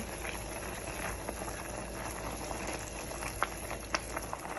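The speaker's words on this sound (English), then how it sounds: "So while our pasta is boiling, we're starting our sauce here." Pasta boiling steadily in a pot of salted water, a continuous bubbling hiss with occasional small pops, close up.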